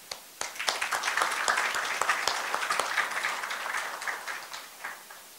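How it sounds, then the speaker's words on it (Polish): Audience applause at a school year-end ceremony at a Catholic high school, dense steady clapping from a crowd lasting throughout, fairly loud with individual claps standing out. "Dla was wielkie brawo."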